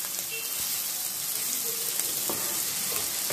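Cauliflower curry seasoned with garam masala sizzles steadily in a pan while being stirred, with a few soft scraping knocks of the spoon against the metal over the continuous frying hiss.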